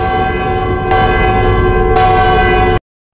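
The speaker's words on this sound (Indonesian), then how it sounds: "lonceng kerajaan berbunyi" A royal kingdom bell rings loud and sustained in a film scene. A rich, ringing tone with layered overtones swells twice before cutting off abruptly.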